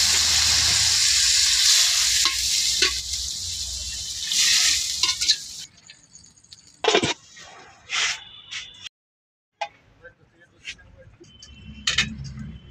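A curry in a pan hisses loudly for a few seconds after water is poured in, then quietens into scattered clatters and bumps around a brief moment of silence.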